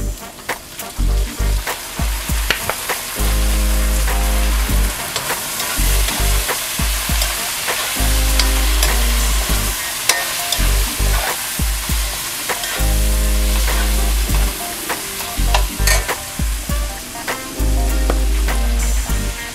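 Pancit canton noodles sizzle loudly in a hot pan right after soy sauce is added, a steady frying hiss broken by repeated scraping stir strokes, close and continuous with no talking.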